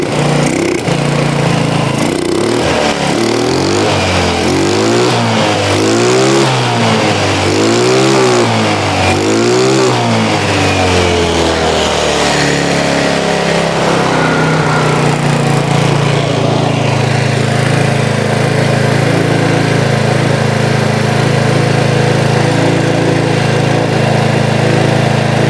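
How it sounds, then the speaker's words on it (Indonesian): A Yamaha Mio motorcycle engine with a rough-running fault, close and loud, revving in repeated surges for about ten seconds and then settling into a steady, coarse idle. "keluhan daripada konsumen yang pertama yaitu mesin suaranya kasar"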